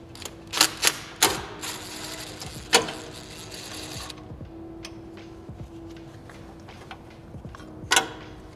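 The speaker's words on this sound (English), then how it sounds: "I'm actually gonna take these two 10 millimeter bolts off that are holding the bracket in place" Two 10 mm bolts coming off a radiator bracket on a 2022 GR86/BRZ, heard as close clicks, ratchet ticks and metallic taps in a brief cluster, then quieter handling noises and a final sharp click.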